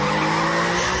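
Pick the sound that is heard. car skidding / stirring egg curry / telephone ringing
car skidding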